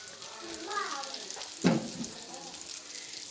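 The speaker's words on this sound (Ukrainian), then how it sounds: "Котлетки смажаться." Quiet, steady sizzling of minced meat patties frying in a pan, with a brief clatter midway and faint speech in the background.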